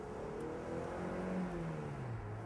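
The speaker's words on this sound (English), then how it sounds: "Has a nice sound to the resonance of the mufflers too." A 2008 Mazda MX-5 sports car with a 166-horsepower engine revs and hums steadily, its pitch sliding downward as it eases off, with a deep muffled exhaust tone resonating through the mufflers.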